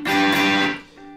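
Electric guitar playing a riff without muted stops, one sustained distorted chord ringing loud and close, then fading alone.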